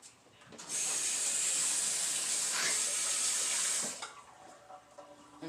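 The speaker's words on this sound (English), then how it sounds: "Wash my hands." Water runs from a sink tap for about three seconds while hands are washed, a steady close hiss that starts abruptly and cuts off, with faint kitchen clatter afterward.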